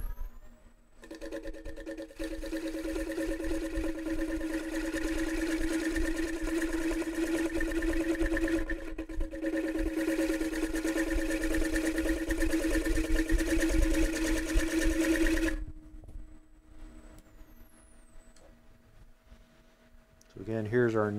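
A fluteless gouge rubs its bevel at a high shear angle on punky maple turning on a wood lathe. The steady humming cut runs for about fifteen seconds, then drops to the quieter motor hum, and talk is heard over it.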